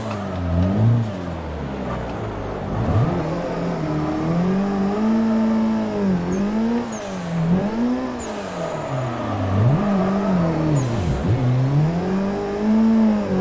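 Car engine revving in a drifting racing video game on the Irohazaka mountain course, its pitch rising and falling in repeated swoops as the throttle is worked through corners, loud and close with brief tire screeches.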